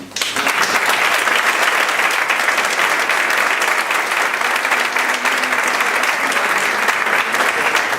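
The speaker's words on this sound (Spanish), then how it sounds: "el aplauso para ellos y para ti" An audience at a flamenco presentation bursts into loud, continuous applause, a thick, even roar of many hands clapping that holds steady from start to finish.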